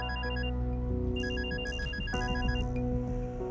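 A telephone rings during an office scene in the Hindi TV comedy Maddam Sir, a bright electronic ringtone repeating its beeping pattern steadily throughout, loud and close, with no talking over it.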